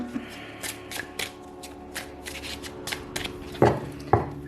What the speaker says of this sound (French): On remélange un peu pour en avoir 2 autres.